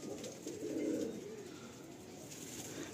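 Madrasi pigeons kept for sale in Garia, Kolkata, give soft, low, rolling coos, close by and fairly quiet, over faint background noise.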